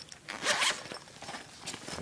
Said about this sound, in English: Let's see if we can get into the main pocket, which has 2 zippers